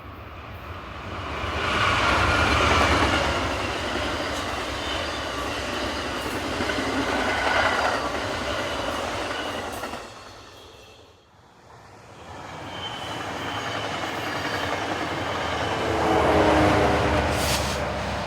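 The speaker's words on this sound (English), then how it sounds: "a slightly tardy Amtrak number 1, the Sunset Limited, and a Metrolink commuter train passing this scenic corner of the railroad" An Amtrak Sunset Limited and a Metrolink commuter train pass a scenic rail curve in succession, a loud sustained rumble with clattering wheels and faint squeals, dipping briefly between the two trains before swelling again.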